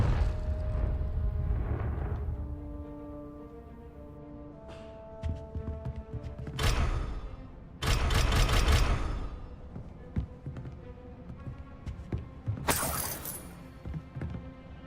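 Explosive bursts from a Confringo curse in Hogwarts Legacy, three loud blasts with bright crackling bursts over a steady droning background, spaced a few seconds apart and trailing off between hits.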